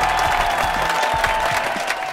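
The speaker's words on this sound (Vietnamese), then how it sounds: "Một tràng vỗ tay cho đội của cô Gừng và đội của Hùng Hùng" A TV game show studio audience claps for the competing teams, a dense, steady burst of applause lasting about two seconds.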